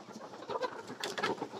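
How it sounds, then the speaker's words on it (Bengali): Chickens in a poultry shed give a few soft, murmuring calls in short bursts, faint and fairly close, with no talking. "দেখেন মুরগিগুলোর সাউন্ড"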